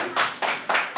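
Applause at a school Independence Day program, a burst of many hands clapping in dense rhythmic waves, steady and fairly close, with no voices over it.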